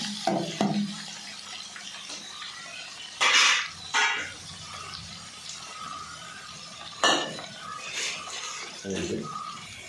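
Yogurt being stirred into a buttermilk curry pot, with intermittent clinks and scrapes of a spoon against the vessel over a low background, a few louder bursts of handling noise.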